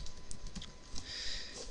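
Rapid typing on a computer keyboard to enter a note, a steady run of close, light key clicks with no voices.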